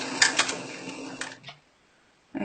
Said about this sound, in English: So I'm going to sew a few stitches,